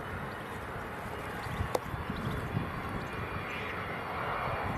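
Airplane taxiing at Leeds Bradford Airport, a steady broadband engine roar heard from a distance, with a brief sharper click or knock partway through.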